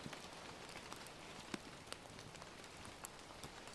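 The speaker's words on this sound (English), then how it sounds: "She stays at the window for a while, watching the rain transform everything outside." Storm rain patters steadily on outdoor surfaces, a soft, even hiss broken by scattered louder drops, heard alone at low volume.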